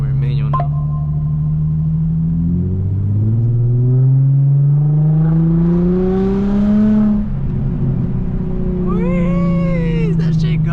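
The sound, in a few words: straight-piped Infiniti G35 exhaust revving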